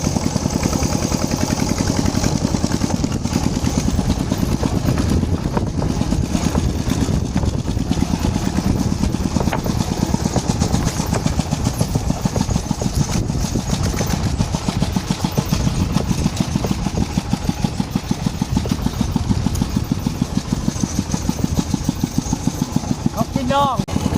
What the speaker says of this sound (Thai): ขี่รถไถเฮานะบัดนี้